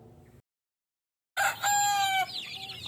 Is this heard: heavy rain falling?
no